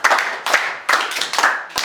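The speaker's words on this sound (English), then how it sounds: "Please clap for her." Students in a physics class clap for a classmate, loud and close, in several uneven bursts of rhythmic hand claps.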